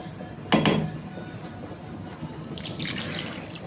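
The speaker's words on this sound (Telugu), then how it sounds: "కొంచెం వాటర్ వేసుకుందాం తిక్కుగా ఉంది కదా" A short splash of water poured into a pot of drumstick sambar, followed by quieter kitchen clatter and faint trickling.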